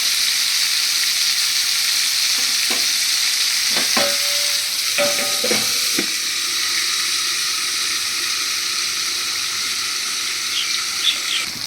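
Shrimp, potato and pumpkin pieces sizzle in a pan as they are stirred. Loud clattering scrapes bunch up in the first half over a constant close frying hiss, with no one talking.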